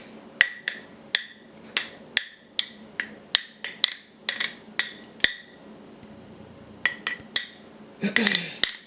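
A metal spoon scrapes and taps against a glass jar of sourdough starter made from bleached flour and water, giving a run of sharp, close clinks at an irregular, fairly steady pace, with a brief rougher scrape near the end.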